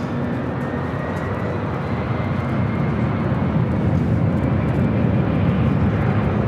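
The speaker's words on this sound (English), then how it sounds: "Delta A321 Neo now rolling down to 24 left" Delta Airbus A321neo jet airliner rolling on the runway at LAX, giving a constant loud broadband engine roar that builds slightly over the clip.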